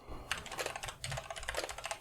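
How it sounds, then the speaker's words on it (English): Rapid computer keyboard typing, a steady run of crisp clicks close to the mic with no talking. "Edit out my keyboard clicks."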